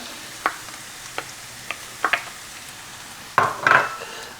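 Onion, celery and carrot sizzle softly in oil in a pot while a utensil scrapes and taps against the sides, with a few sharper clinks near the end; no talking.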